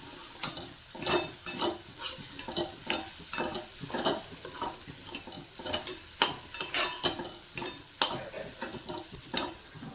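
Peanut, onion and coriander chutney mixture being stirred and sautéed in a pan: a continuous sizzle broken by repeated scraping and clinking strokes of a spoon in an uneven rhythm, close and clear.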